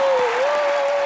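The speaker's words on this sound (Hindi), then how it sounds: "इनके लिए जोरदार तालियां।" A studio audience at an Indian television comedy show applauds loudly in a dense, continuous burst after a children's dance performance.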